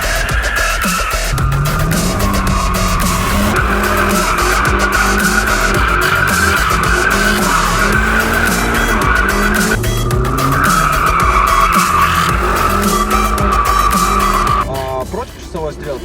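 A car drifts sideways during a drifting lesson, its tires skidding in a loud, sustained squeal over a revving engine, close and continuous before fading near the end, with talk heard over it.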